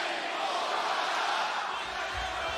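Live wrestling arena crowd at a televised AEW show, a steady dense roar of many voices filling the space with no break, a low thump rising near the end.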